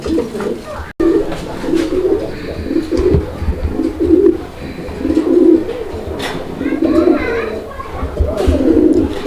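Pigeons coo repeatedly in rhythmic, close-up bursts at a rooftop loft of Raj Golla show pigeons, with children's voices and background chatter underneath.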